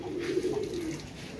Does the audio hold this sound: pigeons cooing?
yes